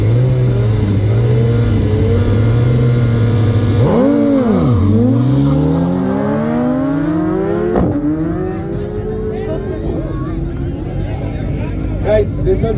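Two 1000 cc motorcycles launch in an 800-meter drag race, engines droning loudly up close, then rising through gear shifts as they pull away and fade, with crowd chatter in the background.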